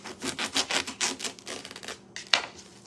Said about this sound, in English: now I'm just going to cut the end off